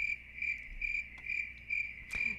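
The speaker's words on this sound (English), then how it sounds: "Crickets." Crickets chirp in a steady, continuous high trill with regular pulsing, fairly close and alone, with no voices over it.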